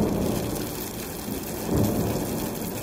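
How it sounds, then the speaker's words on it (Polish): Steady rain pours down on a gloomy day while thunder rumbles low and broad, swelling louder near the end; no voices. "Deszczowy dzień nas dziś czeka."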